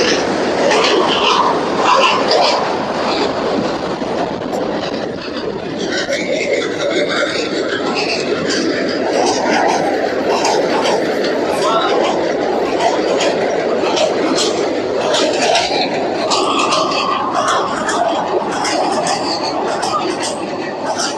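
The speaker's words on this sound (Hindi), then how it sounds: "दौड़ती हुई ट्रेन, पाकिस्तानी ट्रेन आ रही हैं यहाँ पर मलीर एक्सप्रेस वे के नीचे से गुजरेंगी" Pakistani train running beneath the Malir Expressway in Karachi, a steady, loud broadband rumble and rush sustained throughout with continuous people talking over it.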